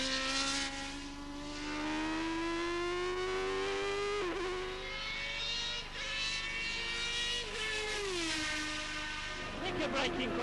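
A 1992 Benetton Formula One car screams at high revs as it brakes for a chicane, the engine note dropping through several quick downshifts with sharp blips. The engine stays loud and close, and a voice talks over it.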